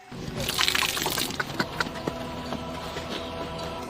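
Cow urine splashes and trickles close by as it is poured for washing, with a heavy pour at first that thins to dribbles, over low background murmur.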